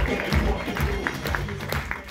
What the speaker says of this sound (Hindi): तो इनके लिए एक बार जोरदार तालियां।